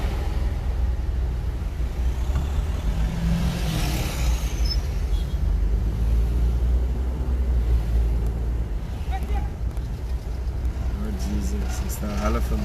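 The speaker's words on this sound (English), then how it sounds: "You hear them trucker driving." Trucks rumble past on a road outside, a steady low drone of heavy traffic with a hiss of air brakes and passing swells, while someone talks over it.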